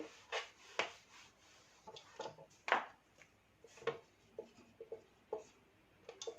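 Chalk or marker writing on a classroom board during a maths lesson, a series of quiet scratchy strokes and taps in irregular bursts, close but faint, with no talking.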